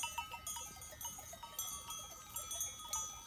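A flock of sheep moves past nearby, with livestock bells clanking in a busy, irregular jingle that continues throughout; the sound is faint.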